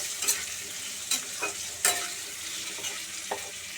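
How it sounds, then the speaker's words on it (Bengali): Potatoes fry in a pan, giving a soft steady sizzle punctuated by a few sharp scraping stirs, close and fairly quiet with no one speaking. "আলুটা একটু ভাজা ভাজা হলে"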